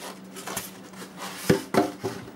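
Polystyrene packing pieces are pulled off an HP Photosmart C310 inkjet printer during unboxing, giving a few close, hard knocks and squeaky scrapes with a louder cluster near the end.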